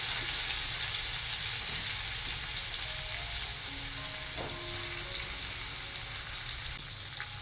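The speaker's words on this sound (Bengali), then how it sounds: "জিরেগুলো একটু লাল হয়ে এলে আলুগুলো ভেজে নেব।" Potatoes frying in oil with cumin seeds in a home kitchen, a steady close sizzle and crackle running throughout with occasional light stirring sounds and no voices.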